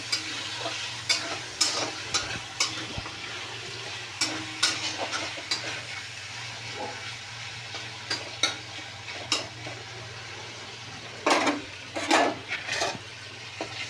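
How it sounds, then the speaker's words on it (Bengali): Prawns fry lightly in oil in a pan for prawn pulao, with a steady soft sizzle and repeated scraping, stirring clinks of a utensil against the pan; no one speaks. "চিংড়ি মাছগুলো খুব কড়া ভাজবো না, আমি হালকা করে ভেজে নেব।"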